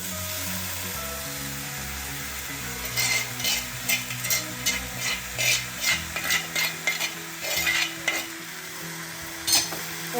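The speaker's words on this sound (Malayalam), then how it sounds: "നന്നായി ഇളക്കി അങ്ങനെ നമ്മളെ കയ്പൊക്കെ തോരൻ റെഡി ആയിട്ടുണ്ട്" Bitter gourd thoran is stirred in a hot pan, with a steady frying sizzle and a quick run of rhythmic scraping strokes in the middle, close and fairly loud with no voices.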